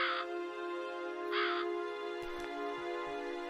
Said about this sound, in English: all the while the crows cackled their malevolence around me